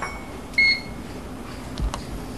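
A household microwave oven gives a short electronic beep, then a fainter second tone, over quiet room noise with no talking.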